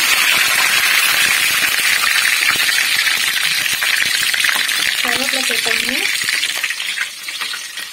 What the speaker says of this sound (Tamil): நல்லெண்ணெய் நல்லா காஞ்சதும் கடுகு கருவேப்பிலை போட்டு தாளிக்கலாம்